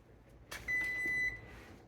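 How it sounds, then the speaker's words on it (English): A kitchen timer on an oven beeps once at the end of baking chicken drumsticks: a single steady electronic tone that holds for about half a second, close and clear, after a short clatter. No one speaks. "And my timer just went off."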